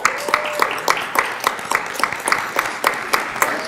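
Audience applause at a school board meeting, a steady stream of many hands clapping together with fairly regular sharp claps through the room, loud and continuous with no speech over it.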